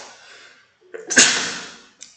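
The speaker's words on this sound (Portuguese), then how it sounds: "me desculpa, eu não consegui evitar esse espirro" A single loud, close sneeze bursts out after a short inhaled buildup, with a brief sharp click just after.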